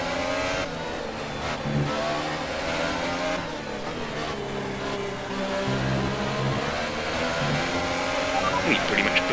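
A Williams Formula 1 car in the F1 2018 video game, driven at the United States Grand Prix, holds a loud, continuous high-pitched engine whine that rises and falls with gear changes, while a voice talks over it.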